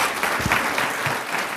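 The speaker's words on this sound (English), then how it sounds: "your applause will just prolong this session to way longer than what it needs to" An audience at a school board meeting claps steadily in a dense, fairly loud patter of many hands, with no voices on top.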